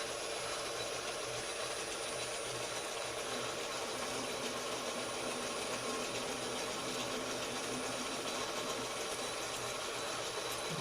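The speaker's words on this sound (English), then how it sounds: "I'm going to shut off this feed gear stuff here." The feed gear of a machine runs on, making a steady, dense mechanical whir and hum that stays at an even level throughout, with no talking.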